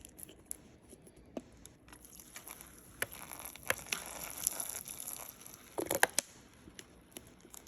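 Water squeezed from an upside-down bottle patters and splashes onto a model mountain landform, a soft spattering rain sound with scattered crackles and a brief louder burst near the end.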